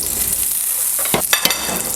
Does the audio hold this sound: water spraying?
no